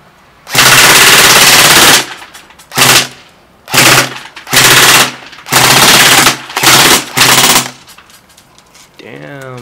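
A KWA KM4A1 airsoft rifle fires full auto in several loud, close bursts of rapid buzzing shots, the first long and the rest short, separated by brief gaps.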